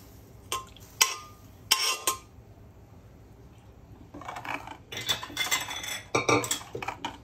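A metal spoon scrapes and clinks against a pan while cooked vajadi is stirred into roasted masala, a few sharp isolated clanks first, then a busier run of scraping and tapping, close and clear with no talk.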